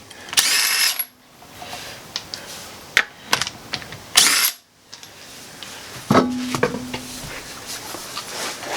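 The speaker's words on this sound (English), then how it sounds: "It's the Judge Mills impact wrench." An impact wrench fastens adjustable camber plates on an Isuzu Stylus suspension, firing two short, loud buzzing bursts separated by scattered metallic clicks and ratchet-like clatter, with a brief humming tone near the end and no talking.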